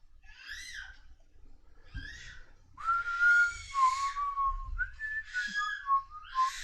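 A baby screams in high, wavering, whistle-like wails, several separate shrill cries rising and falling, heard off-mic and moderately loud with no speech over them.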